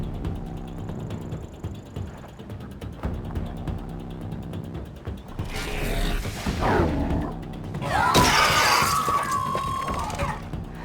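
Chained robotic machines in the video game Horizon Zero Dawn: a quiet mechanical hum and ticking give way to loud grinding, creaking metal and a sharp screeching robotic cry near the end.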